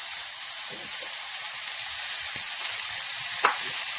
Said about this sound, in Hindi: अभी देखिए तेल मेरा ये प्याज थोड़ा सा भून जाता है